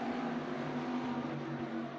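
Race cars in the iRacing sim at a green-flag start at Barber Motorsport Park, a steady dense engine drone with harmonic whine, loud and continuous throughout without any talk.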